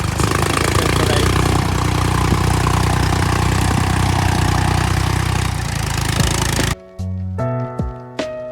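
A tractor engine with a plough, working in rice-planting fields, runs steadily and loud for most of the stretch before cutting to quieter, choppy mechanical tones with distinct pitched harmonics near the end.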